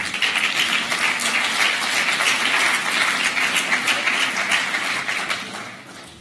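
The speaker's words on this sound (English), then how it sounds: "can I get a round of applause indeed for our CEO, Nelson Ogunchekun." A conference audience applauds their CEO at a closing session, a dense, sustained crowd of clapping hands that holds steady and loud before thinning slightly toward the end, with no voices over it.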